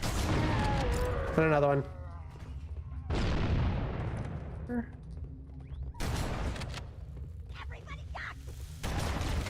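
Grenade blasts in Halo land as sharp booming bursts that decay quickly, several spaced across the stretch amid gunfire, with players talking excitedly between and over the explosions.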